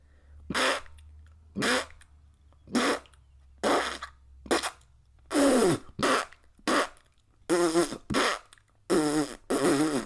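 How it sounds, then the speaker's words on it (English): A rapid string of about a dozen short, loud fart noises, each a separate burst with brief silences between, some buzzy and pitched, close and alone with no talking. "Here are some fart noises."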